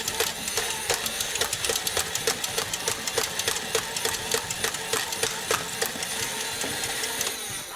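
Adventure Force V-Twin toy minigun blaster (2019) firing in a steady, rapid stream of sharp mechanical clicks and whirring motor drive, close and continuous for several seconds with no talk.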